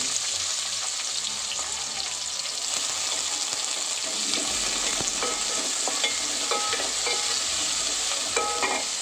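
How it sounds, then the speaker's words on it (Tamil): Onions sautéing in oil for a village-style anchovy curry, a steady close sizzle with scattered crackles and stirring scrapes, continuous from start to finish. "முதல்ல வெங்காயம் வணக்கிக்கலாங்க"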